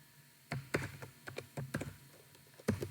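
Code being typed on a computer keyboard: quick, uneven bursts of close, crisp key clicks with short pauses between them, and no talking.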